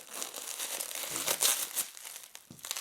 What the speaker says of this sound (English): open them up by cutting apart the sticky tape that's holding the bubble wrap nicely sealed